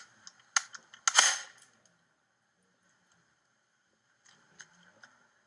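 A homemade potato cannon being test fired gives a few sharp clicks and snaps, then a loud hissing burst that fades over a second, followed after a pause by softer clicks. There is no talk.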